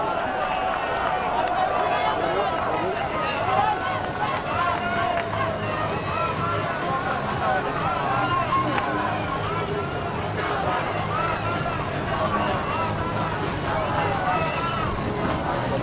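A large cricket crowd at a Hong Kong versus Pakistan Super Sixes match in 2012 keeps up a steady, dense roar of cheering and chatter for the whole stretch, with no single voice standing out.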